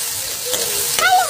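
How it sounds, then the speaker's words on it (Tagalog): Tomatoes, onion and garlic sizzle steadily in a frying pan as a spoon stirs them, with a faint scrape under the hiss and someone talking over it. "I-mix natin yung kamatis."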